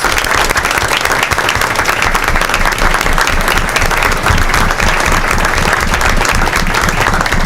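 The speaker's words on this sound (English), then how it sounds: "Let's give them all a great round of applause." Loud, sustained applause from an audience for students at a Buncombe County Schools board of education meeting, with dense, even clapping and a few cheers throughout.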